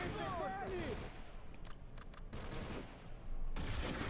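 Gunfire from the World War II tactics game Close Combat Cross of Iron, with rapid, crackling bursts of small-arms and machine-gun fire in a dense fusillade over steady battle noise, moderately loud throughout.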